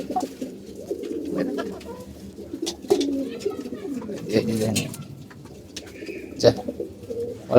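Pigeons coo softly while feeding, with low, rolling calls repeating close by amid light rustling and pecking noises.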